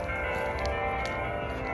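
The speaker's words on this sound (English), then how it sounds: "Hopefully you can hear the church bells." Church bells ring out on a cold Christmas Eve street, a steady, sustained wash of overlapping metallic tones that carries on without a break and with no talking.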